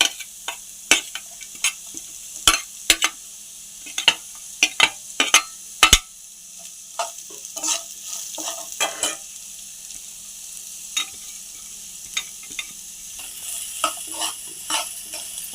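Thinly sliced onions frying on low heat in a pan for egg samosa, with soft steady sizzling and sharp clinks and scrapes of a spoon stirring against the pan at irregular intervals.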